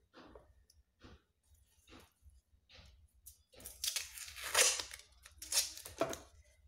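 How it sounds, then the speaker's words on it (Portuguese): Adhesive tape is pulled and torn, then pressed onto a homemade ring toss game, with faint crinkles early on and louder ripping and scraping bursts in the second half, close and alone. "Então, vou pôr um pedaço de fita aqui."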